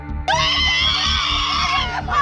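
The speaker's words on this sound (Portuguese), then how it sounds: "Uma mulher desesperada, gritando." A desperate woman screams, loud and sustained for about two seconds after a short lead-in, at the scene of a shooting.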